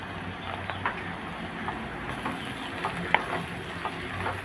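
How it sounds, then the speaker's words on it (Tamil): Finely chopped ridge gourd sautés in a pan with turmeric, giving a steady low sizzle broken by a few light stirring clicks and one sharp tap, with no talking. "நம்ம பொடியாக நறுக்கி வச்ச பீர்க்கங்காயை இது சேர்த்துக்கலாம்"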